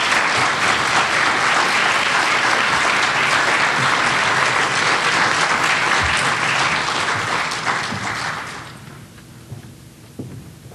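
An audience applauds to welcome the keynote speaker at a 2012 symposium, with dense, sustained clapping from a crowd in a hall that fades out over the last few seconds, leaving a few scattered claps and thumps.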